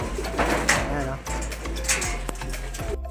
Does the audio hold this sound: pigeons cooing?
yes